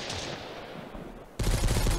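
A hunting rifle fires in the survival video game Mist Survival: after a quiet ambient stretch, a sudden loud close blast erupts and carries a dense, sustained tail to the end.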